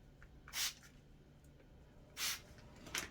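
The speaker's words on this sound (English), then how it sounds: "Make sure you're spraying the air as the snow is falling, as your flocking is falling." Two short hissing bursts of flocking snow spray onto a tabletop Christmas tree, each about a quarter second, separated by quiet, with a fainter spritz at the end.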